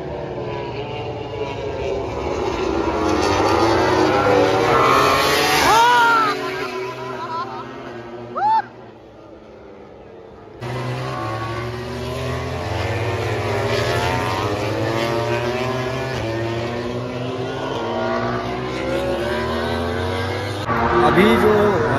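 MotoGP racing motorcycles in a practice session at MotoGP Bharat 2023, screaming past one after another with rising and falling pitch as each bike sweeps by, loud and continuous with brief lulls between passes.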